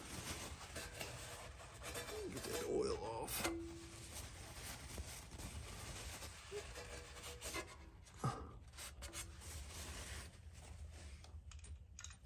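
A rag wipes spilled oil off the lower side of a Kawasaki 19 HP engine on a zero-turn lawnmower, giving steady close rubbing and scraping with a few brief knocks, no talking.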